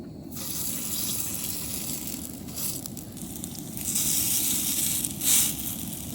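Stuffing ball frying in ghee in a pan outdoors, a steady close crackling sizzle with hissing swells building toward the end, no voices.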